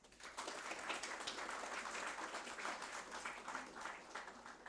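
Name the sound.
audience applause welcoming conference panelists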